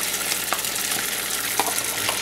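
Gnocchi pan frying in hot oil give off a loud, continuous sizzle and crackle, with small pops scattered throughout.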